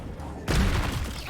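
A sudden whooshing, booming spell blast from the Hogwarts Legacy video game, a single burst that bursts in loudly and lingers briefly, with no talking.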